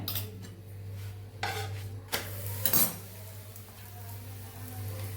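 Metal clatter and clinks of a spatula on a pan as a Kathiyawadi garlic thepla is flipped and ghee is spread, a few sharp knocks and scrapes over a low steady hum, with no talking.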